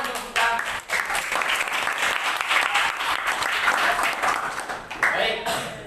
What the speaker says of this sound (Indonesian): Tepuk tangan untuk Vika.